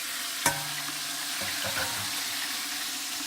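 A sharp thump as sausage drops into a hot pan, followed by a steady, loud, continuous sizzle of frying meat that fills the rest of the moment.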